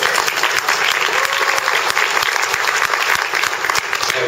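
Applause from a crowded audience at a Midwest Republican Leadership Conference, a dense steady roar of many hands clapping that holds loud for several seconds with no talk over it.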